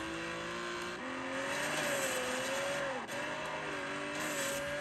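Car engine in an Apple Arcade racing game played on an M1 iPad Air, a steady revving drone with shifting pitch and faint tire noise, continuous and moderately loud.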